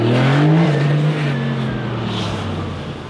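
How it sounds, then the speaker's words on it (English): A twin-turbo Gemballa RUF sports car engine revs loudly and close, its pitch sweeping up and then settling into a strong, sustained roar. "Bro, those turbos are crazy."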